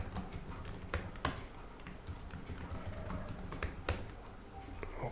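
Username and password keyed in on a computer keyboard: quick irregular bursts of light clicking keystrokes with a few harder taps, close and fairly quiet, no speech.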